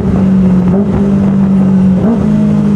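A Kawasaki ZX-25 Limited Edition motorcycle engine revs loud and close while downshifting, a steady high drone that blips upward twice as gears drop.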